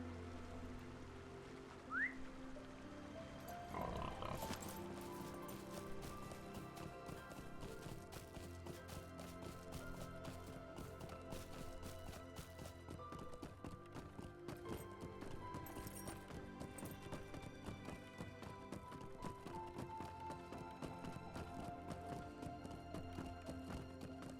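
Horse hooves clopping on a path while riding in the online game LOTRO, a steady rhythmic clip-clop running throughout under soft ambient game music, moderately loud with no talking.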